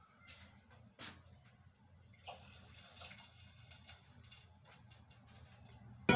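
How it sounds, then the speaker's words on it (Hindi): Water is poured into a cooking pot set on a gas stove for moong dal, a faint splashing trickle with soft clinks and brief knocks in a quiet kitchen. "अब मैं इसके ऊपर थोड़ा सा पानी डालूँ"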